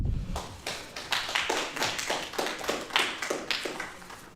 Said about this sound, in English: if we could refrain from clapping, please